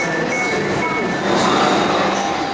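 A new Class 231 passenger train pulls into a station in South Wales, a loud, close, steady rumble of wheels and motors that swells slightly toward the end, with no talking.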